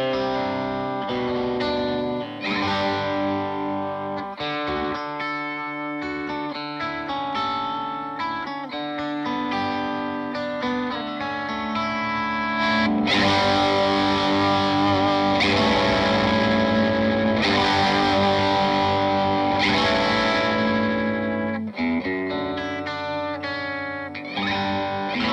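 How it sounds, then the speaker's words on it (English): Electric guitar picked with a sixpence coin instead of a plectrum, giving a brushy attack, played through a Two Notes Torpedo Studio with distortion and ambient effects; a steady, full chordal passage that swells louder midway, with no talking. "Obviously, I'm using a coin as well. I've got my sixpence out. You get that kind of brushy sound."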